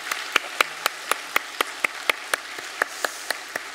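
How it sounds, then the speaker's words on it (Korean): A church congregation at a Korean Sunday service claps to welcome new families, with sharp, evenly spaced claps in a steady rhythm standing out over a softer wash of applause. "우리 네 가정 우리 박수로 환영하도록 하겠습니다."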